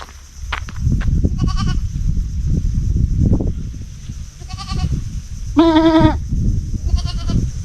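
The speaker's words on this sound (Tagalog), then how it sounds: "Pati kambing eh sumusunod sa akin." Goat bleating close by at a riverside overnight camping spot, several short wavering calls, with one loud, strongly harmonic bleat near the end standing out over a steady rumble of wind and outdoor handling noise.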